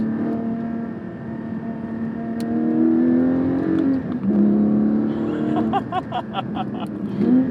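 A mid-engine sports car, a Lotus Evora GT or Porsche 718 Cayman GT4, revs steadily with rising and falling engine tones during heel-toe downshifts, heard up close from inside the cabin with a brief higher whine near the end.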